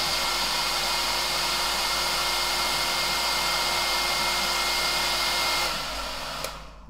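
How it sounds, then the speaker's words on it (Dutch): A hair dryer blows on wet acrylic paint, a loud, steady, close whoosh with a constant motor hum that drops away near the end as it is switched off. "Ook even proberen met de föhn."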